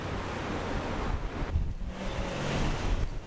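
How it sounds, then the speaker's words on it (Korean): Rough ocean waves churning under strong wind on the Antarctic coast before a blizzard, a dense continuous roar of surf and gusting air, with no voices. "바람을 삼킨 파도가 거칠어지고"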